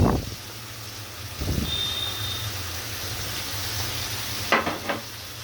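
Ground garlic and onion paste hits a hot pan and sizzles in a continuous hiss over a low background hum, broken by brief louder crackles and stirring noises, with no voices.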